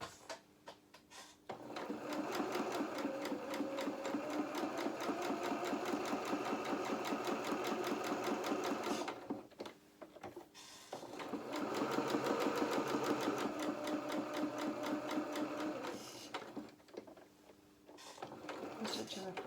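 A sewing machine runs two long bursts of rapid, steady stitching along a doll shirt's side seam, pausing briefly between runs, with a quiet voice talking over it.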